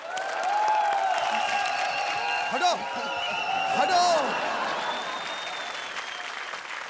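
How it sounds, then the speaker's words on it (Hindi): Applause welcomes two performers onto a comedy show stage, a crowd clapping beneath gliding musical tones and whistle-like swoops, with a voice shouting briefly over the din. "तो जोरदार तालियों के साथ स्वागत कीजिए"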